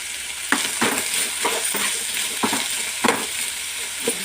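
Guava pieces frying in hot oil, a continuous bright sizzle with intermittent scraping stirs and light clinks of utensil on pan, close and fairly loud, without speech.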